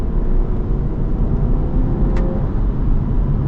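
A BMW M340d xDrive Touring accelerates under load, heard from inside as a steady, loud, low engine drone with one short sharp blip near the end.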